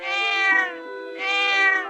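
A cat meows twice in an animated Korean folk tale, each meow a clear, loud, drawn-out tonal cry with a short pause between them and no other sound.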